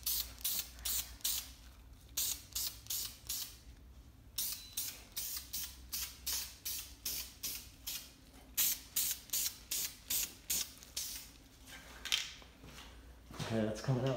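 Sandable primer sprayed from a can onto an RC car body in a rapid series of short, hissing bursts with brief gaps, fairly close, ending with a faint clatter.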